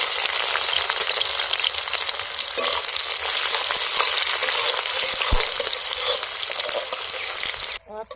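Bay leaves, green chillies and chopped onion fry in hot oil with a loud, steady sizzle that runs unbroken until it cuts off just before the end.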